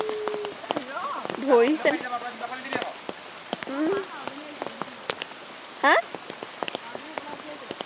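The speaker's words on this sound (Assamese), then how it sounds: "আমাৰ পুখুৰী এনেকৈ কিনকিনীয়া বৰষুণ দিলে" Light drizzle falling on a village fish pond, a steady patter of fine drops on the water surface heard close, with people talking over it intermittently.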